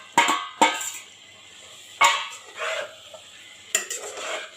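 A spoon scrapes and clanks against a pan as fried okra (bhindi) is stirred into a cooked masala, with four distinct stirring strokes at an uneven pace, close and fairly quiet.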